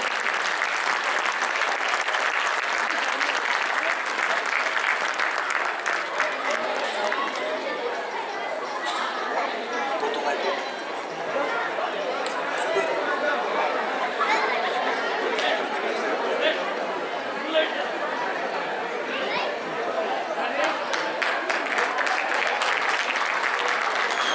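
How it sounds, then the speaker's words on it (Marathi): A stage event audience at a Chaitra month and Maharashtra Day celebration claps loudly and steadily to welcome the anchors, sustained dense applause mixed with crowd chatter throughout. "अँकर्स एकदा जोरदार टाळ्या वाजवून स्वागत."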